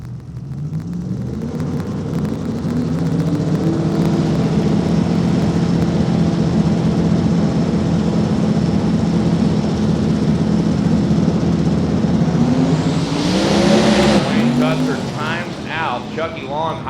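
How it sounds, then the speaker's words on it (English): A pair of turbocharged Ford Mustang drag cars, one a Fox body, launch at a drag strip, their engines roaring loud and sustained with rising pitch sweeps, while an announcer talks over the noise. "We got a pair of turbocharged Mustangs coming at you."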